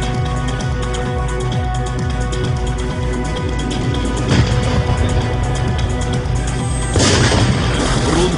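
A BTR-3E1 armored vehicle test-fires its 7.62 mm machine gun and 30 mm cannon, a dense continuous rumble of rapid fire with two louder bursts of booms standing out partway through and near the end.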